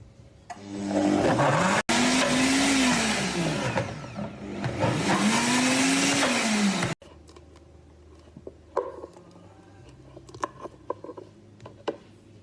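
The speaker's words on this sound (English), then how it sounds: "I've just got it on my blender and I'm gonna press the smoothie setting" A Mod Blend Pro blender runs on its smoothie setting, blending a mint smoothie in two loud, sustained bursts whose motor pitch rises and falls, followed by quieter clinks and knocks.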